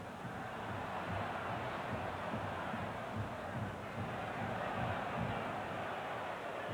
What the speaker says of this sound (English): The crowd calling for a little more purpose to the passing